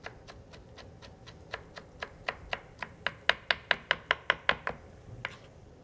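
A knife chops parsley on a cutting board for chicken ezogelin soup in a rhythmic series of about twenty sharp, close taps that build slightly louder midway, with no talking.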